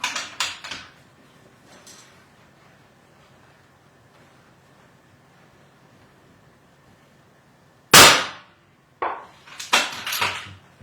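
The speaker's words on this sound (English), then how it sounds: "Yeah, nasty heavy bolt lift." A sharp, loud crack of a 22 Creedmoor rifle shot is followed a second later by a stiff metallic clatter of a heavy bolt lift and cycling, after a long quiet stretch with a faint earlier knock.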